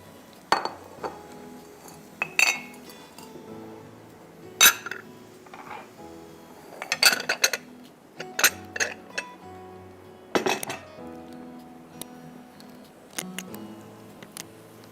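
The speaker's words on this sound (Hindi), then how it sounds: "आधा कप घी में 1 किलो गाजर को हम थोड़ा सा भून लेंगे" A metal utensil scrapes and clinks against a pan in irregular, sharp taps while a kilo of grated carrots is stirred and roasted in half a cup of ghee, close and moderately loud.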